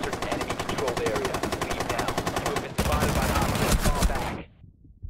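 An LMG fires in Rainbow Six Siege, rapid sustained automatic bursts loud and close, one long stream then a second denser burst that cuts off abruptly into near silence.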